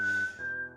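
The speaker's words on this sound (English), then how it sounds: "the beautiful whistling that you're listening to right now" Melodic whistling carrying the tune of an original podcast theme, a single clear sustained whistled note over soft backing music, fairly close and alone without talk.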